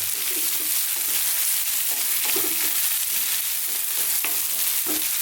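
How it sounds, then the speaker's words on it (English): Beans are stir-fried in a pan for a sweet potato vegan chili, with a constant loud sizzle and periodic scraping and stirring strokes, no voices. "just going to stir fry these around and try and get some of our beautiful flavours onto our beans now"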